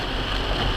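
Rain pattering steadily on a car roof, heard from inside the vehicle as a brief, even hiss of drops.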